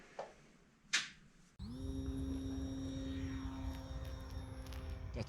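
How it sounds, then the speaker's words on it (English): A Carbon Cub Nano S3 RC model airplane flies around indoors, its electric motor rising into a loud, steady, high whine after a quiet start with a couple of brief knocks. "I'm going to take the Nano S3 and connect it up with my NX8 and fly it around the room."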